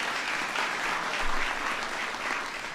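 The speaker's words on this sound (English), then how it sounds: "Give them a big round of applause." An audience at a White House event honoring the dual NCAA champion UConn Huskies gives sustained applause. Many hands clap in a full, even wash that stays steady throughout.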